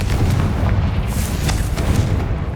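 A Confringo fire spell in Hogwarts Legacy erupts into a sustained booming blast, dense low rumble with crackling bursts running continuously for a couple of seconds, loud and close.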